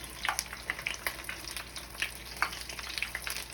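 Battered cauliflower wings frying in hot oil, a continuous close crackling sizzle with small pops, no one talking.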